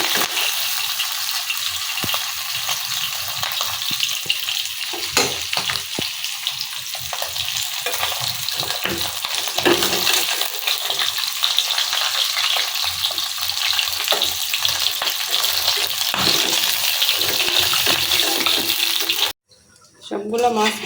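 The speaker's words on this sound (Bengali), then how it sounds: "এখন এই মাছগুলো খুব ভালোভাবে ভাজি করে নেন। এই মাছগুলো কিন্তু ভাজতে গেলে অনেক ফুটে" Pabda fish fry in oil with a loud, crackling, continuous sizzle and occasional spattering pops, interrupted by brief scraping and handling sounds, then a short quiet gap near the end.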